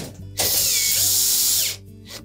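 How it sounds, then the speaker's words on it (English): A power driver runs a screw in to attach a panel on a GE range during a convection motor repair, one close, loud whirring burst of under two seconds that winds down to a stop. "we'll push the panel into place and attach it with a single screw at the top"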